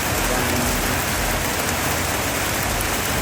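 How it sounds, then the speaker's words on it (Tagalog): Heavy tropical rain in the Philippines pouring down steadily, a dense, loud, unbroken hiss of drops drumming on surfaces nearby. "ay lakas ng ulan po guys,"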